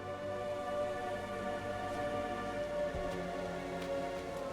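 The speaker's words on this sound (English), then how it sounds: "It's raining blood." Steady rain pours down across a dark, blood-soaked scene in Diablo IV, a continuous even wash of falling drops over a low droning ambience, with no voices.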